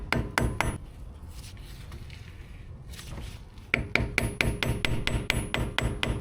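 A hammer or punch strikes the two axle nut stake points on an Alfa Romeo Stelvio or Giulia front hub, a quick burst of metallic blows, a pause with faint workshop noise, then a long fast run of ringing hits.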